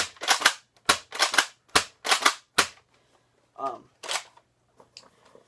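A Nerf Fortnite suppressed pistol fires a rapid series of sharp, close snapping shots in quick bursts, followed by a pause, a couple of brief mechanical clicks and softer handling noises.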